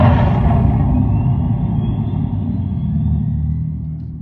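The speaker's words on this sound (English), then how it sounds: "that is what your exhaust sounds like" Simulated exhaust from the speaker of a 2025 Dodge Charger Daytona R/T EV gives a loud, deep, even rumble that slowly fades.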